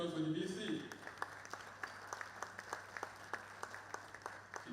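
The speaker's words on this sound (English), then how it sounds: "Please a round of applause for the VC." An audience applauds a university vice chancellor at a Lagos State University ceremony, with a short burst of clapping that quickly thins into scattered, evenly spaced individual claps under a steady hum.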